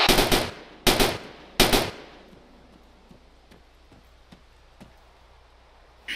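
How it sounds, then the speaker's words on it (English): Sniper fire in the military game ARMA 3 comes as three loud, sharp shots in quick succession, each with a long reverberant tail. Faint ticks and clicks follow in the quieter stretch. "I'm being pinned down by sniper fire."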